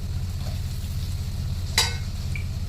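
Onions fry in a hot pan with spice powders such as garam masala, chili powder and turmeric, making a steady close sizzle over a low hum, with one brief sharp clink near the middle.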